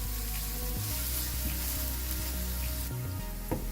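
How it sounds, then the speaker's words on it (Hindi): Half a large chopped onion sizzles steadily in hot oil in a pan, a close continuous crackling fry with a brief stir of the pan near the end. "इसे भी हम फ्राई कर लेंगे।"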